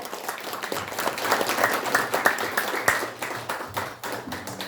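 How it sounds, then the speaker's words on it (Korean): Audience applause at a Korean commemorative launch ceremony, many hands clapping steadily in a hall with individual claps standing out, moderately loud and continuous throughout. "큰 박수 부탁드립니다."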